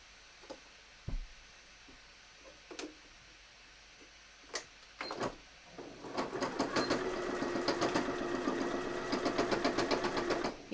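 A domestic sewing machine fitted with a denim needle stitches through heavy fabric for a bomber jacket. A few scattered clicks and thumps lead into a fast, steady rattling run of stitches, close and loud, with no talking.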